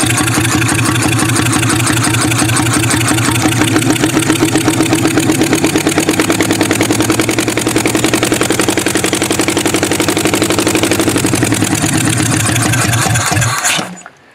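Toyota Camry wagon engine running on just one cylinder with the spark plugs out, a loud, close, rapid uneven chugging that holds steady for about thirteen seconds and then cuts off abruptly.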